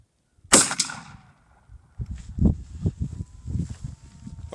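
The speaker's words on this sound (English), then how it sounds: "we're going to see what happens on this shot from my modified choke." A single loud shotgun blast firing buckshot through a modified choke cracks out near the start, followed by faint shuffling and handling noises outdoors.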